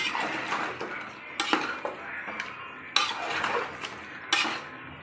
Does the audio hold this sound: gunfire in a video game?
no